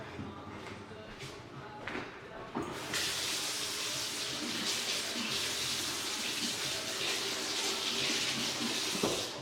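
Tap water runs steadily and fairly loudly while dip powder nails are rinsed, a continuous broadband rush that starts abruptly after a few seconds of quieter handling noises and carries on alone to the end.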